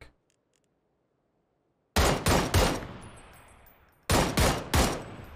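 Two loud bursts of rapid gunfire in PUBG, each three or four sharp shots in quick succession, separated by about two seconds of silence with a fading echo after the first burst.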